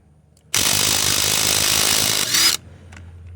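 A cordless Craftsman C3 or Ridgid Octane impact wrench removing lug nuts torqued to 110 ft-lbs, one loud, close, continuous two-second burst of rapid hammering that cuts off abruptly, no talk.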